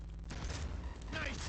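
A gunshot in Cyberpunk 2077, played as a street samurai: a sudden loud blast early on, then dense rumbling combat noise that rings on for over a second.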